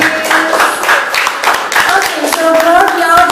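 Audience applause at a school examination presentation event, a steady patter of hand claps filling the room with young voices chattering over it.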